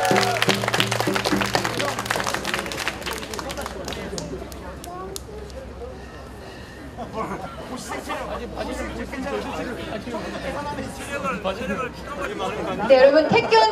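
Applause for an injured player named Hong at an outdoor taekkyeon match, a crowd clapping steadily and chattering under an announcer's amplified voice, swelling slightly near the end.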